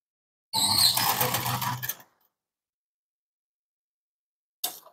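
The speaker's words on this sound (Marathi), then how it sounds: "त्याच्यानंतर शिलाई आपल्याला स्टार्ट करायची" Sewing machine stitching a katori blouse, heard as one steady whirring run of about a second and a half, followed by silence and a brief final burst at the end.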